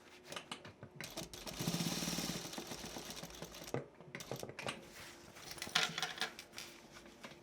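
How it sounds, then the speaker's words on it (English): A sewing machine stitches across a cloth bag from one corner to another, a steady mechanical whir running about two seconds before stopping, followed by scattered clicks and short bursts of stitching as the fabric is turned and locked. "So I'm stitching from one corner to another"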